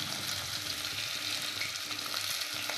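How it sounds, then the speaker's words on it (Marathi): Onion frying in hot oil with mustard seeds and cumin, a steady close sizzle throughout with faint stirring scrapes and no voices. "कांदा मस्तपैकी आपण भाजून घ्यायचा आहे"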